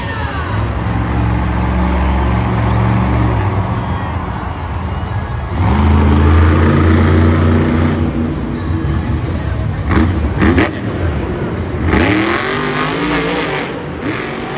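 Monster truck at a Monster Jam show in Indianapolis doing a victory lap: a loud engine roars and revs in repeated surges over crowd and arena noise.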